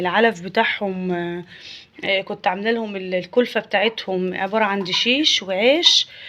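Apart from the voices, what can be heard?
No everyday noises stand out.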